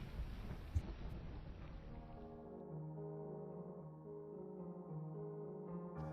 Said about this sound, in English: hopefully, by then, the storm will have passed